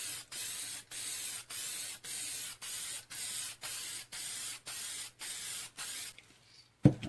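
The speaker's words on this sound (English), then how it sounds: "I'm going to add some clear coat here on the bottom. Now, you're going to want to get this pretty saturated." An aerosol can sprays clear coat in about a dozen short, even hissing bursts with brief gaps between them, close and fairly quiet, ending with a faint clatter and no talking.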